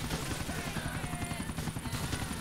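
A helicopter in the video game GTA 4 gives a loud, steady, rhythmic rotor thumping with engine whine that fills the whole stretch, while a voice talks faintly underneath.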